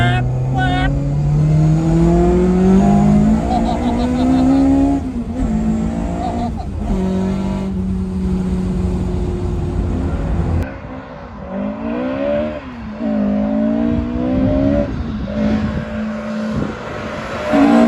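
A Ford MK2 Escort 1600 Sport fitted with a 250bhp 2.0 BDG rally engine revs hard, climbing and dropping in pitch close by, then settles into shorter blips; voices talk over parts of it.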